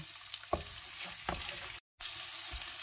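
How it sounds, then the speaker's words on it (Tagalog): Onion hits a pan of browning garlic and fries with a steady, loud sizzle, broken by a few stirring scrapes and a brief dropout near the end. "Lagyan naman natin yung ating onion."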